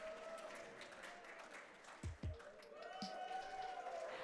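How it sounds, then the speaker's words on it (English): Audience at an esports venue cheering and applauding during a losers' final match, a steady wash of crowd noise and scattered separate cheers, with a couple of louder thumps near the middle. "I'm hearing a lot of separate cheers from the audience."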